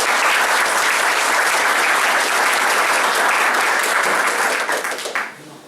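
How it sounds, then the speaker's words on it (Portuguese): Audience applause at a DeMolay ceremony, dense sustained clapping from a crowd that holds steady for about five seconds before quickly tapering off. "Por favor, uma salva de palmas para o nosso tio."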